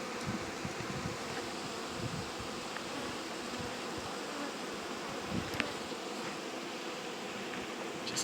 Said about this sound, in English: So far the bees aren't getting aggressive or anything like that.